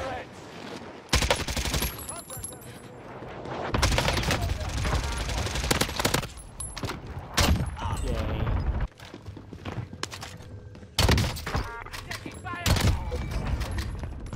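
Rapid bursts of AK74u automatic fire in Call of Duty Warzone on Rebirth Island, loud and repeated across the clip, with a player talking excitedly over the shooting.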